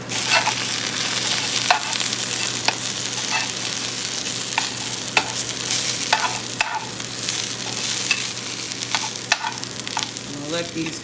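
Potato skins sizzling and crackling in a skillet on high heat, a steady loud frying hiss with scattered sharp pops and crackles throughout, no voices.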